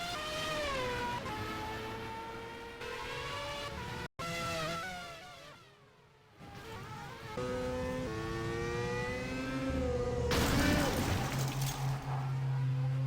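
Race car engines in a sim racing broadcast around a track in Canada, high revving whines rising and falling through gear changes, with passing cars and a commentator talking over the engine noise.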